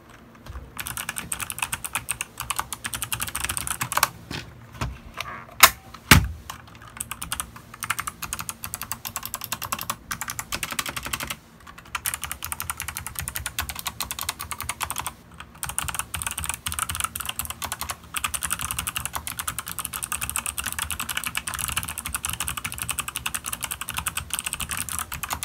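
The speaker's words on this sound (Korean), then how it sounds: "여러분들이 궁금해하실 광축의 키감 한번 들려드리도록 하겠습니다." Typing on a Cox CK700 mechanical keyboard with optical clicky blue switches produces a dense, continuous clatter of crisp key clicks, close and steady with a few brief pauses and occasional louder strikes.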